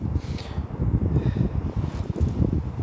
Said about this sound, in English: I can hear the wind, it's big fat scream